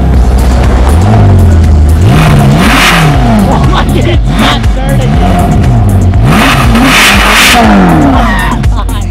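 A Ferrari California engine revs hard several times in rising and falling surges, loud and close, while excited voices shout over it.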